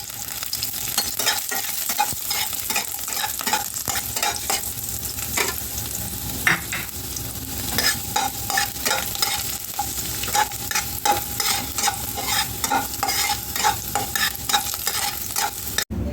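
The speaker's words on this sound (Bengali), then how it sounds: "রসুনটাকে ভেজে নেব" Garlic frying in mustard oil in a kadai, stirred continuously, giving a loud, constant sizzle broken by frequent scraping and clinking strokes of the spatula throughout.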